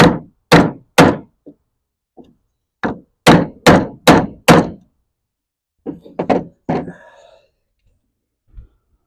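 Someone hammers a wooden block into place on a mid-century modern dresser with a dozen or so loud, close, hollow wooden thunks, some in quick runs of three or four, separated by short silences.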